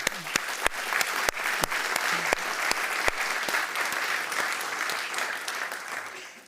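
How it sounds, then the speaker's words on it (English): Audience at a lecture by a Nobel laureate economist giving a warm round of applause, steady dense clapping from a crowd that holds for several seconds and then starts to fade. "First, the keynote by Professor Joel Mokyr, whom I wish a very warm welcome here, and maybe an applause."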